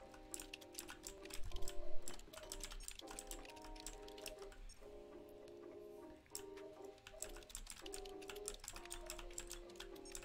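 Soft, quick keyboard clicks from typing in the video game Stray, a scattered run of light taps heard under gentle in-game music.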